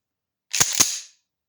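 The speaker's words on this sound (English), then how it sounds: "the very sound of that shotgun racking" A shotgun being racked: two quick, sharp mechanical clacks in close succession, loud and near, with nothing else around them.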